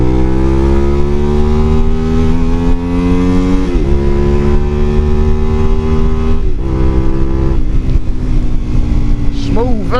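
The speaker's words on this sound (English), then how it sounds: "clutchless gear change." Honda Varadero 125 motorcycle being ridden with clutchless upshifts, its loud close engine drone rising steadily in pitch between brief dips at each gear change, roughly four shifts over ten seconds, with wind rush throughout.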